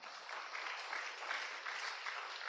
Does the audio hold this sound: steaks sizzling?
no